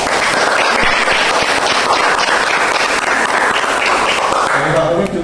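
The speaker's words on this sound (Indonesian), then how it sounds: "Tepuk tangan lagi." Applause from a school assembly audience of students and parents, a continuous loud clatter of many hands that holds for several seconds, with voices murmuring underneath.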